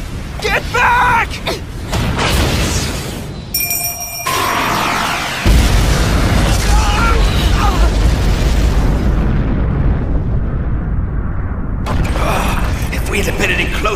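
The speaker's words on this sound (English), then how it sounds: "If we'd have been any closer to that explosion, we'd have been goners for sure." A big explosion in the anime movie Shakugan no Shana, a sustained rumbling blast and roar after mechanical creaks, ringing tones and shouted dialogue, ending in debris noise as characters speak again.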